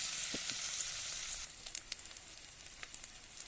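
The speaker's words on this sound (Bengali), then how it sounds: "আমি এইভাবে সবগুলোকে মুড়ে নেব দিয়ে কড়াইতে তেল দিয়ে ভেজে নেবো এক একটা করে" Egg-free vegetarian omelette rolls fry in oil in a wok, a bright close sizzle that eases after a moment into softer crackles and occasional spitting pops.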